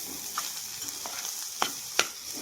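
Curry leaves, garlic and tamarind frying for ivy gourd chutney, a quiet steady sizzle with a few sharp stirring clicks near the end, close up and without talk.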